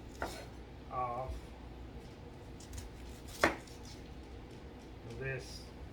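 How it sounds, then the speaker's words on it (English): A kitchen knife cuts the ends off an onion on a board, with a few sparse, soft chops and one sharper knock, quiet and close under the sounds of a home kitchen. "I'm going to use one of her knives, cut the ends"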